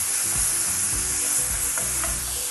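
Lentils stirred with tamarind paste in a hot frying pan, a dense continuous sizzle with low scraping knocks from the spoon throughout, close and without speech.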